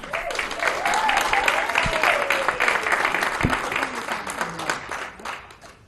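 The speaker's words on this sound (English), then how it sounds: "Please give a big round of applause for Jacqueline Haida." A room full of people at a talk event applauds steadily for several seconds to welcome a speaker, the clapping fading gradually toward the end.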